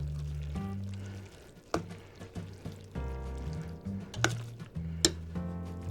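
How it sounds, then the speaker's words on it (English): Cheese being stirred into macaroni pasta in a pot on the stove, with soft wet squishing and a few sharp clinks from the spoon against the pot over a low background hum. "Stir it in until it starts to get very melty."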